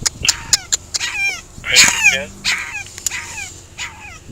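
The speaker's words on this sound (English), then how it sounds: "It is very heartbreaking to hear the puppy's distressed cries through a crack in the window." A puppy trapped in a car whimpers and cries, heard through a crack in the window, in repeated high, wavering whines broken by short yelps, close by and fairly loud, with no talking.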